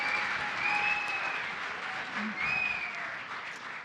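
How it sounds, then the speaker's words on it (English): An audience at a live community crowdfunding event claps in a sustained round of applause. A bright steady wash of many hands fills the room, with some faint voices and tones mixed in. "Round of applause for Billy and Stephanie."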